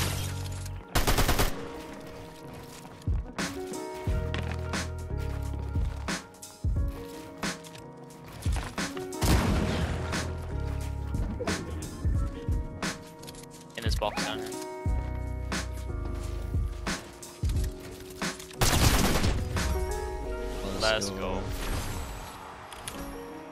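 Rapid bursts of gunfire from Fortnite in Chapter 5 Season 2, repeated volleys and single shots scattered across the whole stretch, with players talking over the action throughout.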